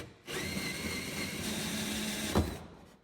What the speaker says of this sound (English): I'm going to try a hole saw to speed this up.